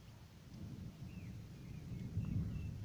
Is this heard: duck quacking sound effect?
no